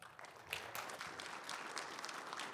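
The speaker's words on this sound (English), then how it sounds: "another round of applause for Ren." Audience applause at an academic quantum cryptanalysis conference session, a steady, moderately faint patter of many hands clapping throughout, with no one speaking over it.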